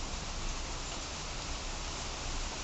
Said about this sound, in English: it's not a very hot day, it's raining.